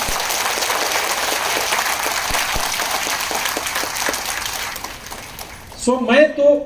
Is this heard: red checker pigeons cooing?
no